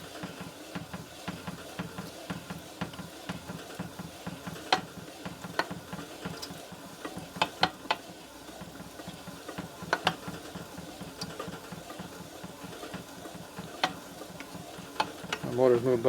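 A motor-driven lap moves back and forth with grit on a 1947 Harley EL Knucklehead 74ci engine part, giving a steady scraping, ratcheting grind with rhythmic pulses and occasional sharp clicks, loud and close throughout.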